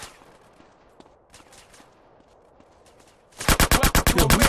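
Gunfire in GTA San Andreas Remastered: faint, scattered shots at first, then a loud rapid volley of evenly spaced automatic bursts close by.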